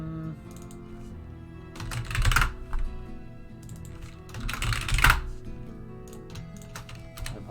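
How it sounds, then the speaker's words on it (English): Keys clatter on a computer keyboard nearby, with steady tapping that swells into two dense bursts of fast typing and no voices. "I apologize if that typing is bothering anybody"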